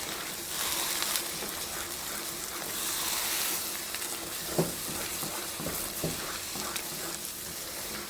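Ground tomato frying in oil in a pan, a steady close sizzle with a few soft stirring knocks and clinks partway through, no talking.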